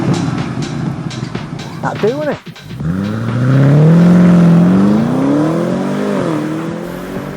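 The BMW 8 Series Gran Coupe's 850 V8 petrol engine, 530 horsepower, blips after a short spoken line, then swells into a loud, sustained rising rev with a gear-change dip, roaring close by.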